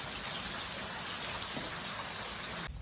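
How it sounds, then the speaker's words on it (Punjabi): Steady, dense rain hissing without a break, close and fairly loud, with no voices, ending abruptly at the very end. "ਇਹਨੇ ਨੂੰ ਮੀਂਹ ਆ ਗਿਆ"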